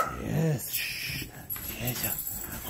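Dogs whimper and whine in short, high-pitched bursts close by, mixed with a person talking excitedly to them in a warm, coaxing voice.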